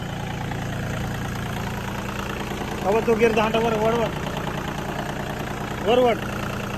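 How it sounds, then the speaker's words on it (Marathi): A tractor engine idles with a steady low rumble throughout, close and continuous, while people talk over it in short bursts. "मग तो ट्रॅक्टर गेला अटकून."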